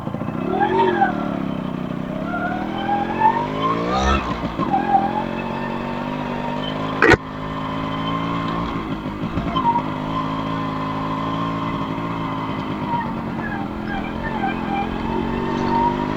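A restored 1989 Yamaha RX100 two-stroke motorcycle revs up close by, rising and falling through several throttle blips, then holds a steady, buzzing high idle with one sharp click partway through.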